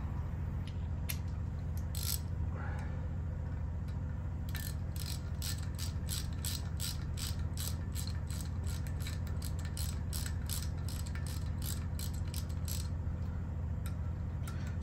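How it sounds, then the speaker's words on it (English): A hand ratchet clicks in quick repeated bursts while tightening wheel bolts on a 2013 Harley-Davidson Softail, faint but distinct ticking over a steady low hum of a garage. "then I'll use the ratchet to tighten them up"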